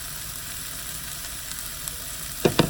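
Zucchini and squash sizzle with onions in a hot pan, giving a steady, close frying hiss throughout, with a couple of sharp utensil clicks near the end as the vegetables are stirred.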